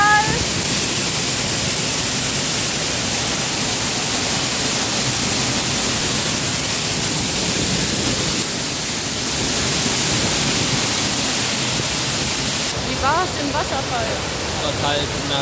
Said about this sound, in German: Ich bin im Wasserfall.